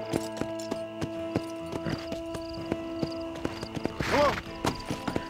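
Steady clip-clop of horse hooves at a walking pace in the video game Red Dead Redemption, close and clear, with a soft whinny-like sound near the end and faint background tones.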